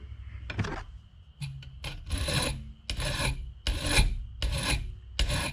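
Speargun shaft tips are filed by hand with a metal file, giving rhythmic rasping strokes about once a second, fairly close and clear, with no talking.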